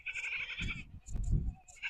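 Goats on a farm pasture bleat close by in short, wavering cries, with two or three calls overlapping across two seconds and some low rustling beneath.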